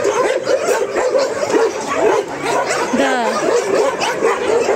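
Several dogs at an animal shelter bark, yip and whimper continuously at close range, with a voice faintly mixed in beneath the chorus.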